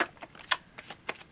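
Tarot cards are riffled and shuffled by hand in a few quick, soft papery bursts, close and quiet with no voices.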